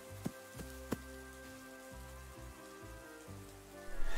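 Sudden rain in a countryside storytelling scene, drops spattering steadily on the ground and leaves near a large tree, with a few louder individual drips standing out early and the patter building toward the end.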